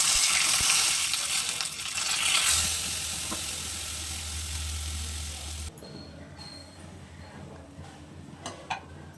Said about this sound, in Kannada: ಹಂಗಾಗಿ ಚಟ್ನಿಗೆ ಒಗ್ಗರಣೆ ಹಾಕ್ತಾಯಿದ್ದೀನಿ